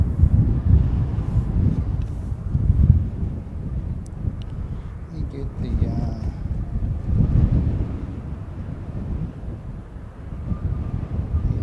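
Strong, gusty wind buffets an outdoor microphone near an airfield, low rumbling surges rising and falling in uneven bursts, close and continuous, with faint background sounds beneath.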